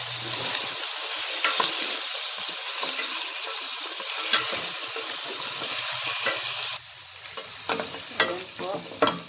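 Beef spare ribs hit a hot pan with a loud, dense, hissing sizzle that stays steady, then drops a little in level and keeps crackling with a few sharp spits near the end.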